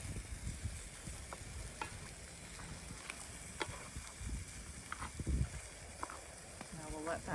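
Chili with lots of vegetables, herbs and spices sizzles and bubbles in a pot over fire, with faint stirring scrapes and occasional soft pops against a steady frying hiss.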